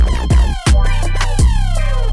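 A 3X OSC software synth plays alone, bright laser-like tones sweeping downward in pitch, several repeated zaps over a steady pulsing bass bed, with no voice.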